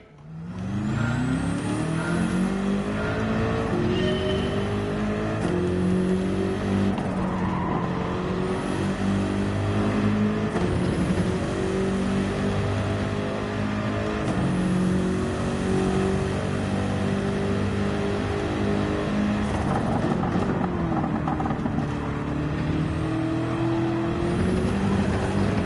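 Race car engine in the Gran Turismo 7 racing game, revving and shifting continuously with rising and falling pitch sweeps as the throttle is worked, loud and steady throughout with no talk.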